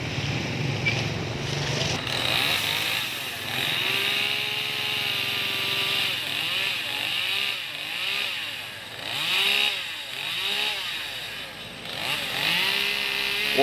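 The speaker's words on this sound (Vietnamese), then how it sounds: "Anh cưa đó cái nhánh nhào ra luôn nha các bạn." Close chainsaw cutting through branches, the engine repeatedly revving and bogging down in uneven bursts as it works through the wood.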